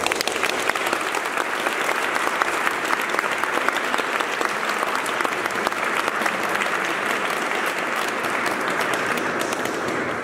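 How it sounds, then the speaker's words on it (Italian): Sustained concert audience applause inside the Basilica of Santissima Annunziata in Florence, a thick even roar of many hands clapping, steady and loud throughout with little voice above it. "di potergli dedicare il primo applauso della serata."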